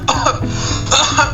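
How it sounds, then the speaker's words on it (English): A patient coughs into a TB screening booth device, giving several short, loud, close-up coughs with a throat-clearing quality. "The patient will cough into the booth device 3 separate times."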